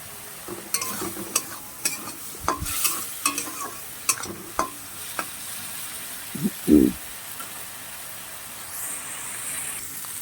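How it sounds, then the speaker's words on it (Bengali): Shrimp sizzling gently in a pan while a spatula taps and scrapes at irregular intervals, with one heavier clunk partway through. "সুন্দরভাবে ভেজে নিতে হবে চিংড়ি মাছগুলো"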